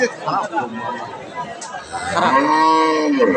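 A heavily pregnant Friesian cow with six teeth lets out a long, loud moo at a busy cattle market, rising in the latter half, while people chatter and bargain close by.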